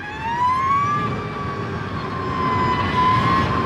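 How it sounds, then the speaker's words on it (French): A sustained high-pitched electric whine from an Energica Ego RS electric motorcycle rises and holds steady, loud and close, over a low rumble of city traffic. "c'est assez étrange une moto électrique bruyante"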